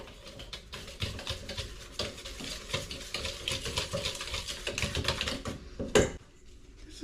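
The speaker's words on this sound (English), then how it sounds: "I'm going to mix this all together really well" Dry flour, sugar and salt being mixed in a bowl for a lemon meringue pie crust, a steady run of quick soft scraping and tapping strokes, close and continuous with no talking, ending in one sharper knock.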